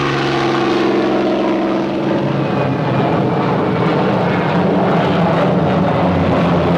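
Loud, continuous drone of the twin 2,000-horsepower piston engines of a Northrop P-61 Black Widow night fighter, a throbbing propeller roar that holds steady and slightly shifts in pitch midway, with no voices.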